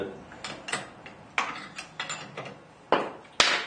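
Small metallic clicks and ticks sound as a spanner loosens a CNC router bit and the bit is spun by hand, with an irregular rhythm of close, sharp taps that grow louder toward the end.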